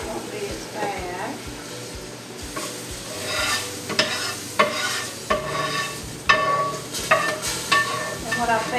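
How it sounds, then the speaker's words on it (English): A gumbo roux being stirred in a hot pot, a soft sizzle broken by repeated scraping strokes of the spoon against the bottom, with a person talking over it. "stand over it and make sure that you stir it till you get the right consistency"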